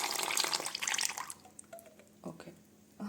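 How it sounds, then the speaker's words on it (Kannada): Milk is poured into hot water for a homemade facial, giving a short splashing pour that fades into a few soft, sparse drips in a quiet room. "ಸೊ ಈ ಬಿಸಿ ನೀರಿಗೆ ಸ್ವಲ್ಪ ಹಾಲನ್ನ ಹಾಕ್ಕೊಳ್ತಾ ಇದ್ದೀನಿ."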